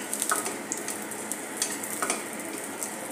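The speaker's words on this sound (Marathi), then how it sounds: "मनुका आपण चांगला तळून घेऊया." A cup of raisins frying in a spoonful of ghee in a kadhai, a steady moderate sizzle with scattered small crackles and ticks.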